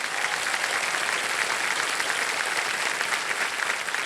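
Steady applause from a studio audience on the KBC quiz show set, dense and continuous at moderate loudness for about four seconds, with no talking over it.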